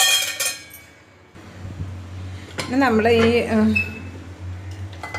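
A metal cooking pot clinks as it is set on a stand, a brief cluster of clatter near the start, followed by a low hum and someone speaking.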